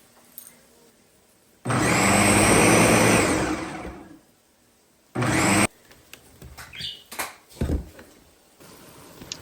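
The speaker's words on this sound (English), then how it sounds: "These tomatoes are crushed, and we're going to blend." Crushed tomatoes for chili whirring in a blender, a loud close roar for about two and a half seconds that winds down, then a shorter second burst, followed by scattered clatter and handling noises.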